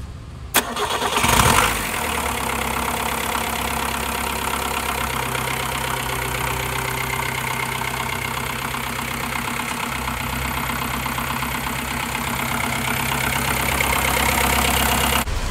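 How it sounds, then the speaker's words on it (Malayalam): A 1964 Ambassador Mark 2 car engine, well maintained and slightly modified, turns over briefly with a whirring crank, catches, then settles into a steady, close, throbbing idle that holds evenly to the end with no voices. "ഒന്ന് സ്റ്റാർട്ട് ചെയ്ത് കാണാം നമുക്ക് ഈ ഒരു എഞ്ചിൻ."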